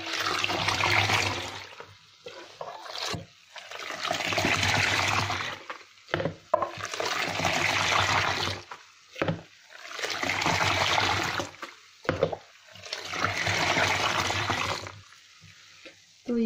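Milk set with yogurt culture is beaten by hand for homemade yogurt, giving repeated bursts of sloshing, splashing liquid in roughly two-second waves separated by brief pauses, close and fairly loud.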